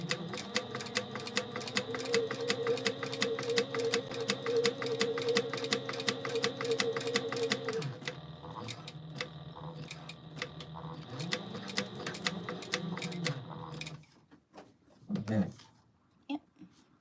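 A sewing machine runs a steady, rapid 1/8 inch top stitch along a mini backpack at its handle, a fast even ticking run that slows and changes pitch partway, then stops with a few faint handling noises at the end.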